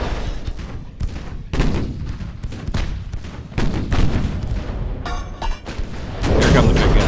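Big guns of a modern battleship firing in Ultimate Admiral: Dreadnoughts, a string of heavy booming salvos with sharp cracks and rumbling tails, loud and close, with a voice talking between shots.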